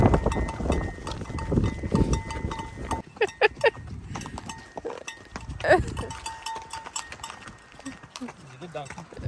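A little donkey walks near the Rio Grande in Big Bend National Park, its hooves clopping close by in a loose rhythm while someone talks over the steps and outdoor noise.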